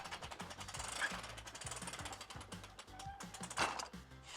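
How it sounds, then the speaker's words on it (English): A manual Dometic / A&E RV patio awning retracts as its fabric rolls up, producing a rapid, steady mechanical clatter like gears and a ratchet that repeats evenly and stays faint throughout. "Extend the awning normally and it should lay flat. Then retract it."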